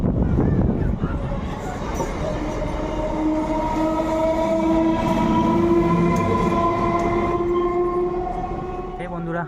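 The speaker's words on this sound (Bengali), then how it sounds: "মেদিনীপুর হাওড়া লোকাল ধরে চললাম খিরায়ের উদ্দেশ্যে" A Medinipur–Howrah local train runs steadily along the track, its loud rumble and rattle continuous throughout, with sustained tonal whine from the carriages and a brief low horn-like tone near the end.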